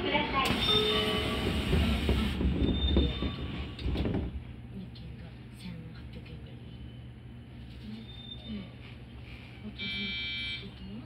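A JR Kyushu Kagoshima Main Line train pulls through a station with a loud rumble, then a door chime and buzzer sound as the doors slide shut, with faint talk in the background.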